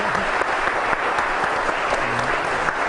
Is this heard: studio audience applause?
yes